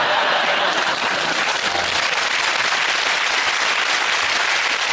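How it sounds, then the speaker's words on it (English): A studio audience on a British comedy panel show bursts into loud, sustained applause mixed with cheering, dense and steady for the whole stretch with no talk on top. "you're applauding there"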